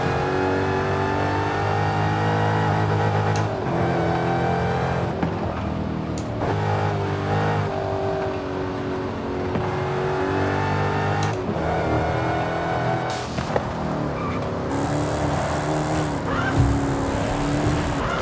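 A Dodge Challenger SRT Demon, a high-horsepower rear-drive car in the Forza racing game, revs loudly and drifts, its engine note rising and falling through repeated throttle bursts with tire squeal as it slides, with no talking.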